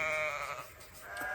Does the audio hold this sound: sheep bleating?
yes